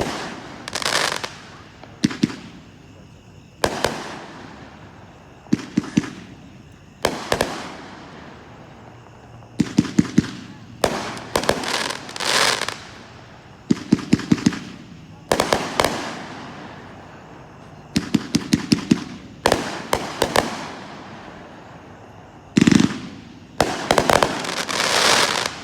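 A public fireworks display fires a 777 cake, packed three to a case, sending out 28 shots as loud repeated bursts in irregular clusters with brief gaps between volleys, each crack ringing out over a quiet background.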